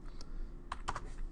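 A couple of soft computer keyboard keystrokes land close and quiet, ending with a firmer press of the enter key, against a faint low hum.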